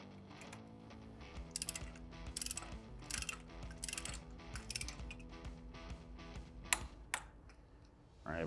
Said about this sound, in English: Now, we'll torque down the axle pinch bolt.